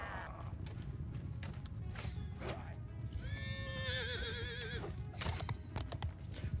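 Horses of horse archers in the Bannerlord video game, with clip-clop hoofbeats and a clear whinny rising over a dense battle din.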